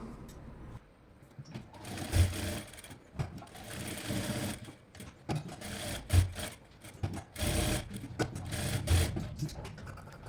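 Sewing machine running in several bursts while double-stitching the straps of a baby frock, its motor whirring and rattling close up, with pauses and handling noise between runs.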